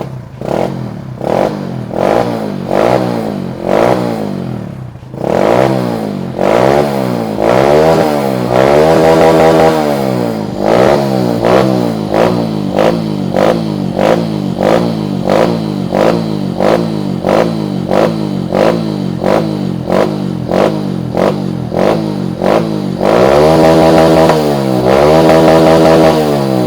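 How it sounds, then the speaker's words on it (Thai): A Honda Wave 125i motorcycle engine with a stainless steel exhaust close by, running with repeated rhythmic revs that rise and fall over and over, loud and steady, no voices. "สตาร์ทเครื่องนะครับตัวนี้"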